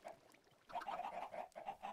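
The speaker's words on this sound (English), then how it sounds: "They're all gonna chickenate. All be chickens." Chickens in the video game Minecraft give short clucks, a quiet pause followed by a run of quick repeated calls, fairly faint and with no speech over them.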